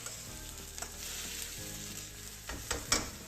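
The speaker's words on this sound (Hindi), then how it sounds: "इसको हिलाते हुए हमने इस तरह से पका लेना।" Onions frying in a pan over a medium-high flame for bhindi sabzi, a steady sizzle with scraping stir strokes and a few sharper clinks near the end, no voices.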